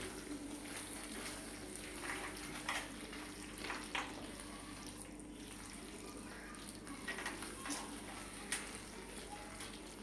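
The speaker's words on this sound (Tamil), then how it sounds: "நல்லா கிண்டிக்கலாம்." Pasta with tomato ketchup stirred in a pan: quiet sizzling under intermittent scraping and clacking of a spoon against the pan, several irregular strokes, no speech.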